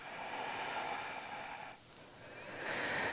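Slow, steady breathing during a dynamic yoga practice, close and soft, with a long exhale followed by a fuller inhale and no talking.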